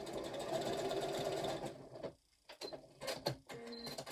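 A sewing machine stitches fabric with a steady whirring run that stops abruptly, followed by a few scattered mechanical clicks and bumps.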